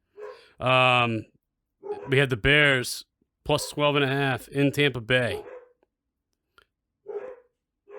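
Dogs bark loudly and repeatedly at close range in a home during a sports-betting chat, sharp harmonic yaps in quick bursts overlapping men's conversation, then falling quiet with a few faint sounds.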